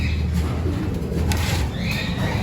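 An old-bird racing pigeon back from a PHA race out of Catbalogan arrives at a loft in Tayabas, Quezon. Soft, faint cooing sits within a steady background hiss.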